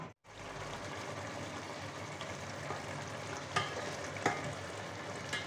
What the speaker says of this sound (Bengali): গ্রেভিটা সুন্দর মতো ফুটে উঠেছে, ঢাকনা দিয়ে ঢেকে ঝোলটা মাখা মাখা করে নেব।